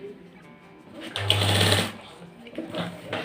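A sewing machine runs a single continuous burst of stitching along the edge of a shirt, about half a second long, loud and close, with quieter room sound before and after.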